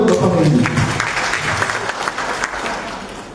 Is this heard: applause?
yes